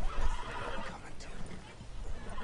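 A horse whinnies and snorts in the open-world western game Red Dead Redemption 2, the neigh rising over busy game ambience with hoof clatter and a voice talking faintly underneath.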